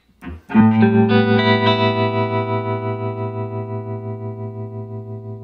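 An electric guitar played through a Strymon Flint tremolo and '63 tube reverb pedal, a single strummed chord ringing out with a steady pulsing wobble and a long, lush decaying tail, close and alone.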